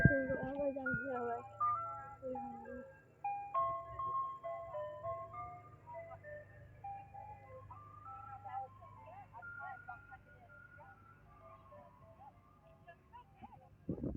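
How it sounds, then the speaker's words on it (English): Ice cream truck chiming its tinkly melody, the tune fairly loud at first and then fading gradually as it plays on over roughly fourteen seconds. "This is my real ice cream truck video."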